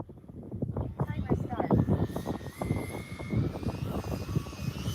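An RC airplane on its maiden flight gives a thin engine drone whose pitch rises and falls. It sits beneath nearly continuous conversation, which stays louder than the aircraft.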